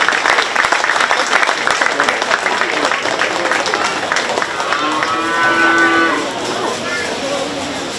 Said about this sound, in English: Let's give them a round of applause and move on